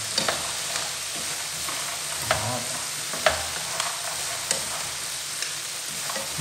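Macaroni noodles frying and being stirred in a pan with fish sauce, a steady close sizzle broken by several sharp scrapes of the utensil against the pan.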